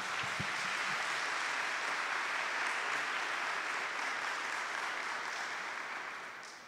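Audience applauding during a Catholic talk on Marian consecration, a dense, steady wash of many clapping hands that holds evenly and fades slightly at the end.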